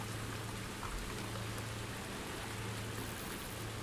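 Steady rain falls in the Ultimate Fishing Simulator video game, an even, dense patter of drops with a low hum beneath and nothing else standing out.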